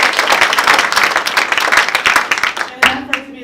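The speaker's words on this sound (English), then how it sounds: "we give Tony a round of applause?" Audience at a Long Beach Measure MM meeting applauding Tony, loud, dense clapping up close, then a voice begins speaking as it dies away.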